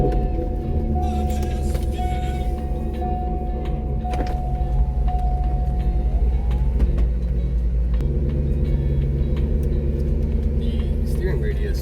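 A Chevrolet Corvette C5 Z06 with fresh transmission fluid drives on the road, its engine a steady close rumble with a whirring tone over it and a slight rise partway through, while a person talks over the sound.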